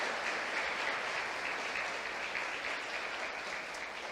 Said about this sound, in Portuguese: Só os que creem, aplaudam Ele aí